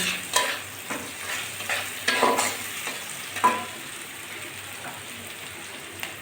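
Green chillies fry in hot oil, sizzling steadily while a spoon scrapes and stirs through the pan in several short bursts; no one speaks.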